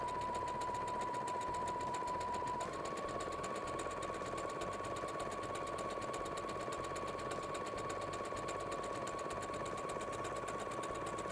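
A sewing machine stitches a fabric appliqué onto a house-shaped cushion. It runs as a fast, steady mechanical rattle, close and continuous throughout, with a constant pitched hum beneath it.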